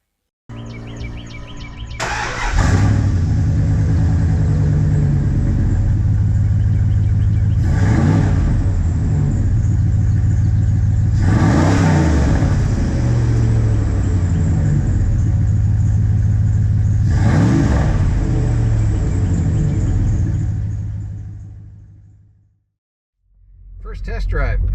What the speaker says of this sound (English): it'll bring it down to an acceptable exhaust note